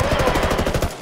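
Rapid automatic gunfire in the tactical shooter Ghost Recon Wildlands: a loud, close burst of evenly spaced shots lasting about a second before cutting off.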